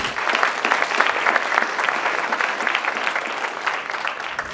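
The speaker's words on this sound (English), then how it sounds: "Let's give them a round of applause." Audience applause at a 2017 secondary school awards ceremony in Valemount, a steady wash of clapping from a large hall crowd, moderately loud and continuous for several seconds.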